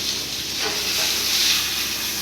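Fresh fish frying in hot oil gives a steady, fairly loud hiss and sizzle with a bright, broad texture that swells slightly midway through and carries no talk.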